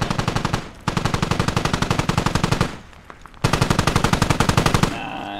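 Mounted machine gun fire in the Squad video game aimed at a helicopter, loud rapid bursts of evenly spaced shots, one long burst, a short pause, then another sustained burst.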